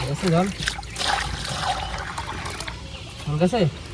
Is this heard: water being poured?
yes